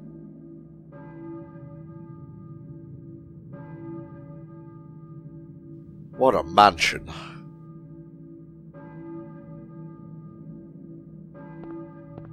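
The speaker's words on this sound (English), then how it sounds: "Oh, church bells ringing," Church bells toll in the Silent Hill video game, a few soft, sustained ringing tones recurring at intervals over a low steady drone, with a brief breathy vocal sound midway and a short line of speech.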